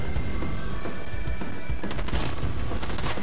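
Gunfire in the video game Fortnite: a loud, continuous volley of shots and bangs that crowds the whole stretch, with a sharper cluster of cracks toward the end.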